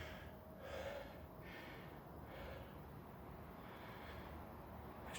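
Heavy, rhythmic breaths after a circuit training workout, a series of soft exhales and gasps repeating every second or so, close and faint with no talking.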